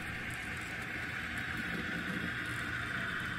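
A Rapido N scale FP9A model locomotive runs poorly, giving off a steady, fairly quiet whirring motor drone with grinding noise, continuous and close, with no voices.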